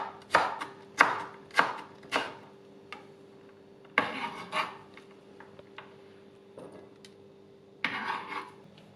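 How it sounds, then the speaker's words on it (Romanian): Half a bell pepper chopped into cubes on a board, a series of crisp knife strikes, several quick evenly spaced chops at first, then sparser cuts and rubbing, close and clear, no talking. "jumătate de ardei capiat tăiat în cubulețe,"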